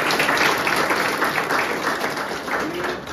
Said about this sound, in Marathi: त्यांच्यासाठी आता पुन्हा जोरदार टाळ्या झाल्या पाहिजे.